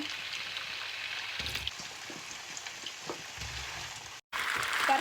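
Potatoes tossed into a pan of hot oil with onion and garlic nearby, giving a steady close sizzle and crackle that swells briefly as pieces go in, with a short break near the end.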